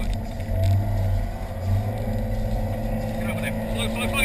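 A car engine drones and pulls harder under acceleration on the Rockingham race track, loud and close from inside the cabin, with voices talking over it.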